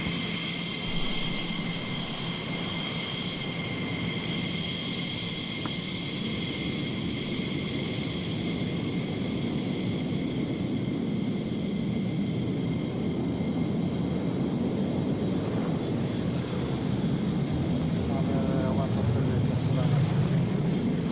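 A fixed-wing aircraft taking off, its engine roar steady and fairly loud throughout, swelling slightly toward the end, with no voices over it.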